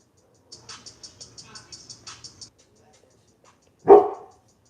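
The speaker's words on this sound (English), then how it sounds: "there's another dog barking now" A dog gives a quick run of short, high barks, followed after a pause by one louder, fuller bark close by.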